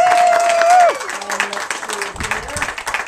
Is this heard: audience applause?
yes